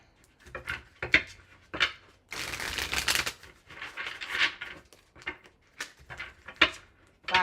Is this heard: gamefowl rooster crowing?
no